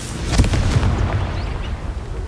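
Confringo blasting spell in Hogwarts Legacy, a loud close booming explosion with a sharp onset that rumbles and fades over about two seconds, with no speech.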